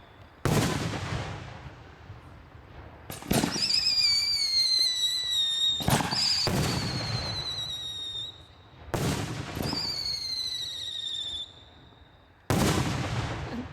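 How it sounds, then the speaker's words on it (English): Three-inch guns fire a 21-gun salute at a demonstration: five heavy booms a few seconds apart, each followed by a long rolling echo, with a thin descending whistle trailing several of the shots. "Now this is the 21 gun salute."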